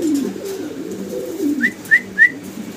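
Pigeons at a pigeon farm coo in a low, steady murmur, and three short, bright rising chirps ring out close together near the end.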